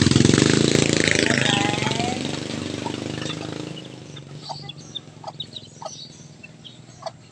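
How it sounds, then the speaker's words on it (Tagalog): A mother hen with three chicks clucks softly in short, scattered bursts. Before them a louder, broad rumbling noise fades out, and no one talks. "Inahing manok na may 3 sisiyo."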